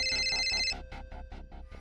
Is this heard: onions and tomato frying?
no